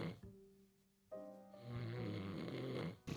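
Defibulus, a character asleep in bed, snoring: one long rasping snore with a drawn-out, rising inhalation, close and fairly quiet, no talk.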